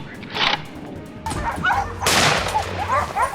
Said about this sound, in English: The pack of hunting dogs now truly showed their value.